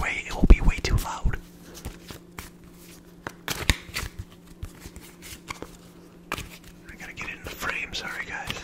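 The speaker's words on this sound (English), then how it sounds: "I'm only shuffling like this because if I do it the other way, it will be way too loud." A deck of playing cards shuffled softly and slowly in a quiet ASMR setting, giving close, intermittent riffling and papery flicks in short bursts, with a faint whisper at moments.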